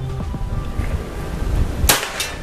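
A single sharp crack from a PCP Predator air rifle fitted with a slug barrel and loaded with 15-grain BST pellets, loud and close, set against faint background ambience.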